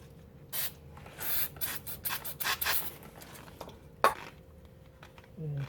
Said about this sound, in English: Should clean it a little bit with brake pad. Brake clean.